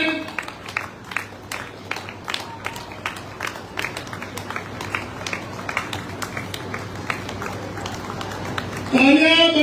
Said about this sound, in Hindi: तालियां बजती रहे, तालियां कभी नहीं रखे।